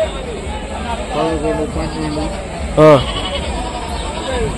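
Goats bleat in short wavering calls at the Rajarampalli livestock market, one loud nearby bleat standing out over a steady crowd hubbub with people talking throughout.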